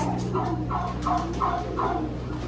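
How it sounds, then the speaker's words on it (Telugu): Turkeys in a garden gobble in a steady series of five or six repeated rattling calls at moderate distance over a low constant background hum, with no voices. "టర్కీస్"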